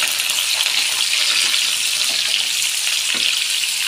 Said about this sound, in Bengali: সবজিগুলো তেলের উপর ভালো করে ভেজে নেব।